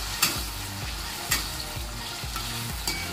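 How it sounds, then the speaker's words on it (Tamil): Potato pieces fry in hot oil for sardine sambal, giving a steady dense sizzle up close with periodic clacks of a spatula scraping and turning them. "இவன் நல்லா மானரமாக பொரியுது பாருங்க."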